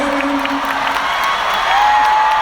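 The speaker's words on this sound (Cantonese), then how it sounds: "我哋俾啲掌聲。" Concert crowd at a large arena show applauds and cheers steadily after a duet, a dense wash of clapping with scattered whoops that swells slightly toward the end.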